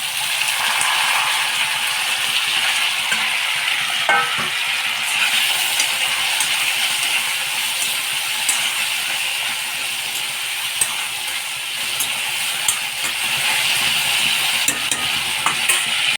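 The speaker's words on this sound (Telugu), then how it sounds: "తర్వాతకి ఆలు అండ్ టమాటో కలిపి వేసేసుకోవాలి." Potatoes and tomatoes fry in hot oil in a pan, giving a loud, steady sizzle with occasional scraping and rattling of a stirring utensil against the pan throughout.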